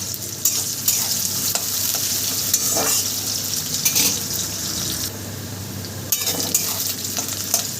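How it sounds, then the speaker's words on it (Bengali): Onions frying in oil with a pinch of salt until reddish brown, a steady close sizzle broken by scattered stirring scrapes and brief clatters, with a short quieter patch midway. "সুন্দর করে পেঁয়াজটাকে আমি লাল করে ভেজে নেব"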